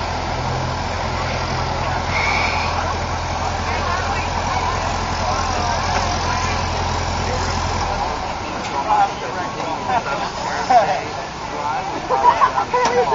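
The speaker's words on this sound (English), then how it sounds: "This is a old Volkswagen." An old Volkswagen engine idles with a steady low rumble under crowd chatter and voices. Partway through, the deep idle tone drops away, leaving brief knocks and handling noises.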